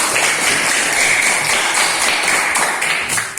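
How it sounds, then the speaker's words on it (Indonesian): A sixth-grade elementary class claps together during a teaching session, producing a dense, continuous burst of children's applause close by that holds steady, then eases off at the very end. "terima kasih tepuk tangan untuk kita semua"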